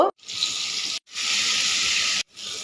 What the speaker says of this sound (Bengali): এবারে কড়াইতে তেল গরম হয়ে গেছে, আলুগুলো দেব।